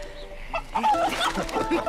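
Chickens cluck close by in short, busy bursts, with a quick commotion of hen calls.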